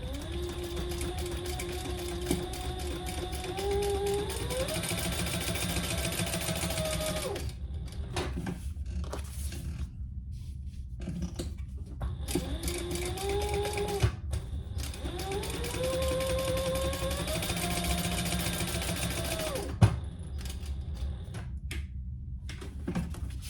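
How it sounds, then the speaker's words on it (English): Domestic sewing machine stitching the three sides of a fabric wristlet, running in two long steady bursts of fast rhythmic whirring with a pause between, close and fairly loud. "And then we're going to stitch on the 3 sides."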